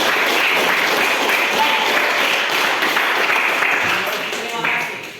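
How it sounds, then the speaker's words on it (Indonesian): A classroom applauding, with dense, sustained clapping from many hands that begins loud and tapers off toward the end, and a brief spoken word near the close. "Tepuk tangan dulu untuk kita semua."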